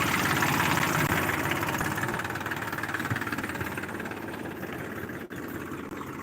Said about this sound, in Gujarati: મિત્ર અમારે ટ્રેક્ટર આવી ગયું હે ખેડવા રોટાવેટર કાઢવા આવી ગયું હે